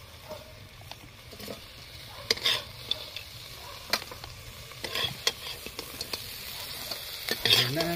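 Crab frying in a pan, with a soft steady sizzle under repeated sharp scrapes and clacks of a spatula stirring against the metal, growing busier toward the end.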